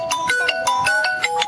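A phone ringtone plays, a bright repeating electronic melody of short pulsed tones in a quick rhythm, loud and close with no voices over it.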